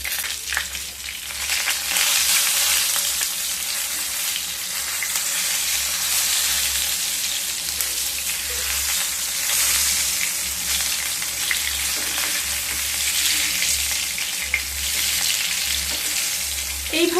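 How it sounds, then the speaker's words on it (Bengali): Brinjal slices frying in oil in a pan, a continuous close sizzle with a gentle rise and fall and occasional crackles, steady throughout and free of talk. "এইভাবে বেগুনের প্রত্যেকটা সাইড খুব ভালোভাবে ভেজে নেব।"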